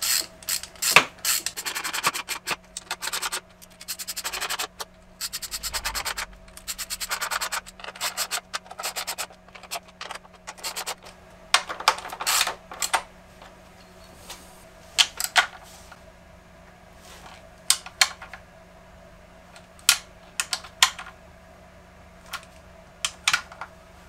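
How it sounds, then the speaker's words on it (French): Hand tools working on the valve cover of a Renault 2.2 dCi 150 hp engine, with scattered short scraping and clicking sounds, light metallic contacts and rubbing, some bursts denser early on, close and moderately quiet with no talking. "Maintenant je vais donc serrer le couvre-culasse et je vais reposer les injecteurs."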